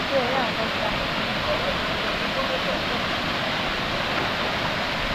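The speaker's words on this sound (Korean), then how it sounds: "폭포수가 장난 아니야" A waterfall at Erawan National Park in Thailand, a loud, dense and unbroken rush of falling water close to the microphone, with faint voices partly buried beneath it.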